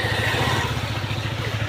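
A motorcycle engine idles with a steady, low, throbbing rumble before a ride. It runs alone and moderately loud, with no talking.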